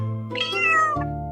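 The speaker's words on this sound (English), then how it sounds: "A short meow can be a greeting." A domestic cat gives a single short meow, clear and close, rising then falling over about a second, with a steady low hum running underneath and no voices.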